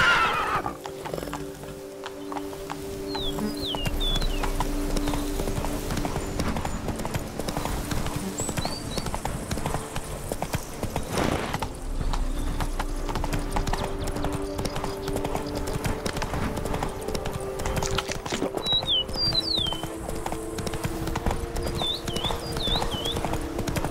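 Horse in The Witcher 3 game galloping with a steady clip-clop of hooves throughout, punctuated by several loud neighs and whinnies, with a brief spoken command at the start.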